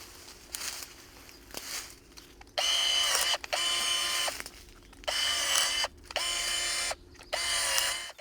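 An Einhell 18V cordless pruning shears, model GE-LS 18 Li, cutting small branches: a few short faint whirs, then five loud motorized bursts of about a second each, separated by brief pauses, close to the tool.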